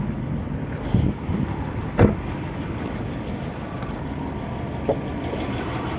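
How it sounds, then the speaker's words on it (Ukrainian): A 2006 Volkswagen Polo's naturally aspirated 1.4 eight-valve petrol engine with gas conversion idles steadily and quietly from close by, a smooth low hum with a few faint knocks. "звичайний атмосферний восьмиклапанний двигун, тихенько, рівненько працює"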